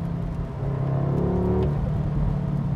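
An Audi S3 Limousine's exhaust burbles as the throttle is lifted, a low rumbling drone with a faint crackle or pop partway through, heard from inside the car without talk.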